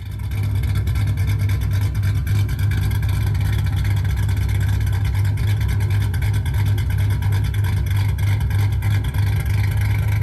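A 2005-2009 Ford Mustang GT with a stage 1 exhaust setup rumbles loud and close, its deep steady engine drone holding constant throughout with no pauses.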